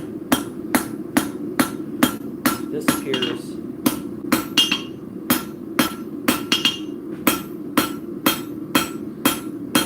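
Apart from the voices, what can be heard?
hammer striking hot metal while forging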